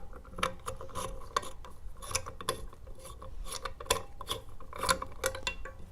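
Ratchet socket loosening a backflow valve seat, heard as a close, continuous run of rapid ratcheting clicks with uneven rhythm, no talking.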